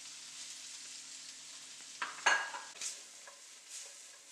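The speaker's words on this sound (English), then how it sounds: "we're just going to add in our vegetables. You just want to cook these nice and slow until they soften up." Vegetables for black sea bass fish tacos cook slowly in a pan with a soft, continuous sizzle. A few utensil scrapes and stirring clatters come through mid-way, and no one speaks.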